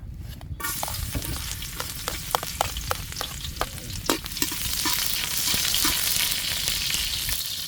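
Fish sizzles loudly in hot oil for a sweet and sour dish, a dense, steady crackle with sharp pops and stirring scrapes throughout.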